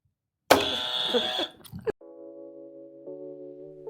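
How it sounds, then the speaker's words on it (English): A loud, harsh buzzer blares for about a second and a half, cuts off abruptly, then soft music begins. "Give me the buzzer."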